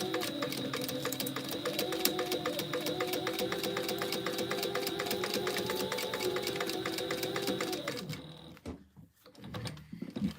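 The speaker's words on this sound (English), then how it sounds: "we're just gonna top stitch this across to stay stitch it" A sewing machine top stitching across a fabric sling with a buckle runs at a steady, rapid close-up clatter for about eight seconds, then stops, leaving faint handling noises.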